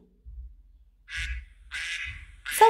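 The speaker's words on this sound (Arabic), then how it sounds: "صوت البطة" A duck gives three separate nasal quacks, loud and close, spaced by short pauses, with nothing else audible.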